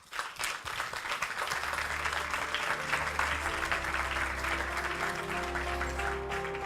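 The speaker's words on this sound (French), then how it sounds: "On peut les applaudir ?" Applause breaks out at a startup contest prize announcement for the first prize winner, many hands clapping in a full, steady burst that starts abruptly and continues as a low musical tone plays underneath.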